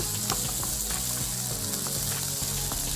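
Salmon or sweet potatoes frying in a hot pan for a warm bowl salad, spattering and sizzling steadily and close up, with sharp crackling pops scattered throughout and no voices.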